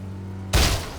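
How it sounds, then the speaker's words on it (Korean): A single sharp gunshot from an online shooter game, an abrupt loud blast that rings off briefly after a steady low in-game hum. "총소리 좀 난 곳이에요 여기"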